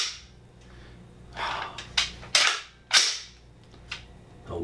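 Several sharp gunshots from a CMMG Descent rifle with a side-folding stock and 16-inch barrel, fired outdoors in an irregular sequence with cracks and trailing echoes, moderately loud.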